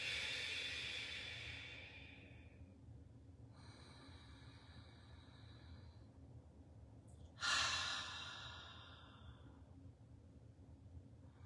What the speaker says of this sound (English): Let's take 3 big cleansing breaths.